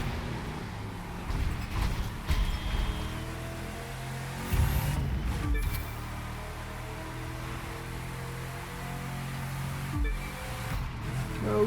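KTM X-BOW R racing through city traffic in The Crew 2, a steady high-revving engine drone with gear changes and rising pitch, moderately loud and continuous with no talk over it.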